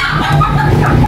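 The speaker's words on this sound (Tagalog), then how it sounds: "So guys, dalawang native na manok." Native chickens clucking up close, loud short fowl calls over a low background, with no talk.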